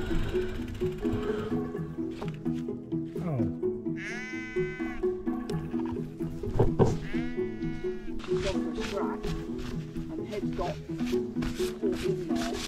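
Repeated sheep bleats ring out near and loud over steady background noise and a droning tone on Salisbury Plain near Imber, with several separate calls spread across the stretch.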